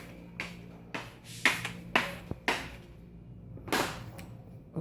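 Footsteps walk across a hard indoor floor near a kitchen, a series of sharp, close taps and clacks at an uneven walking pace, fairly quiet with some room echo and no speech.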